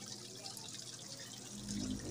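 Water from an Aquaspeed A3000 pump runs through PVC pipes feeding a crayfish pond, a steady close trickling and splashing flow that swells a little louder near the end, with no voices.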